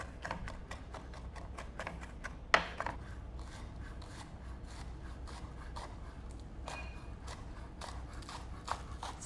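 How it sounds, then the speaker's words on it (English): Knife chopping garlic stems and bulbs on a board, a faint, steady run of quick cuts with one sharper knock partway through, heard quietly without talk. "So we are chopping the garlic as well."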